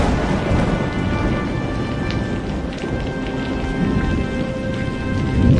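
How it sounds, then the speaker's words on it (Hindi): Heavy, continuous rain pours down over a village in an animated Hindi story, with low rumbling thunder rolling beneath the steady downpour. "ये बारिश तो थम ही नहीं रही"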